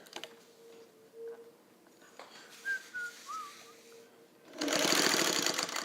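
A vintage Singer 301A sewing machine stitches through four layers of lightweight fabric, starting with quiet clicks and a faint whistle-like tone, then running in a loud steady whir for the last second.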